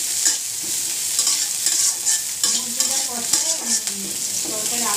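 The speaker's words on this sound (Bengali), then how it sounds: "পেঁয়াজ আর কাঁচামরিচ দিয়ে একটু লাল লাল করে ভেজে নিয়ে মুরগিটা দিয়ে দেবো" Onions and green chillies frying in a pan for a chicken and vegetable curry, a steady loud sizzle with occasional stirring scrapes, heard alone.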